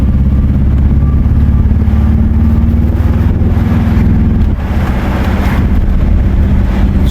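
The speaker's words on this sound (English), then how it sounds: "And it just hit second, third, and fourth. It's hitting all the gears" A truck's automatic transmission carries the vehicle through its gears, the loud, steady engine drone dipping briefly midway as a shift lands, with wind noise buffeting over the continuous rumble and no talking.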